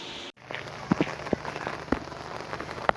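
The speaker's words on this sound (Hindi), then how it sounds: "बारिश बहुत तेज शुरू हो गई है" Heavy rain pours steadily during a home barbecue, a dense continuous wash of drops with occasional louder splashes and taps close by, no voices heard.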